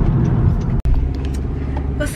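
Inside a moving car, a low engine rumble and road noise fill the cabin steadily, briefly cut by a short dropout, with a voice speaking over it.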